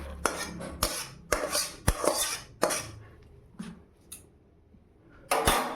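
A pot of cauliflower-potato curry is lifted off the stove with a series of sharp metallic clanks and knocks, some close together, with short pauses between and no talk.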